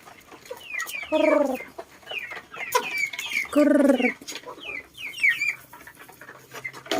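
Chickens and a rooster clucking and squawking at feeding time, bursts of close, loud clucks in uneven clusters with brief pauses between them.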